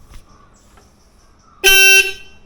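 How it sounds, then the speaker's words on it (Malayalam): A motorcycle horn, freshly adjusted, gives one loud, steady honk of about half a second after a quiet stretch of faint background noise. "ഇനി ഒന്ന് ഹോൺ അടിച്ച് നോക്കാം."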